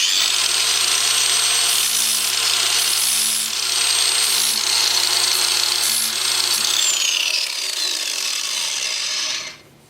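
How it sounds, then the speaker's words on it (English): A 2-inch sanding disc whirs steadily against a wood-turned root ball, rounding over a sharp edge with a high grinding hiss, briefly pausing in pitch, then winding down and stopping at the end. "I think my 2-inch sanding disc can clean that up okay"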